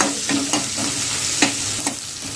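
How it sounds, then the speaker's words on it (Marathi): Garlic and green chillies fry in hot oil with a steady sizzle, broken by several sharp clinks of a spoon stirring the pan, close and fairly loud, with no talk. "लसणाला पण आपण चांगलं फ्राय करून घेऊया."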